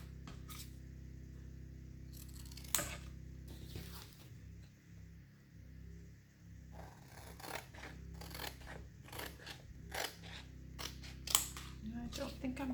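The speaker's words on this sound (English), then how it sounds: "So you just cut along the lines." Scissors snip along the printed lines of a transfer sheet in a farmhouse crafting setting, a series of close, crisp cuts in irregular bursts with quiet pauses between.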